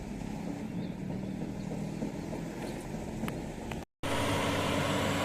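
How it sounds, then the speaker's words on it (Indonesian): A dredging machine works early in the morning on a swamp cleanup project, giving a steady, loud low mechanical drone that runs unbroken except for a brief dropout near the end. "Lihat di depan kita, mesin pengeruk pagi-pagi sudah mulai bekerja."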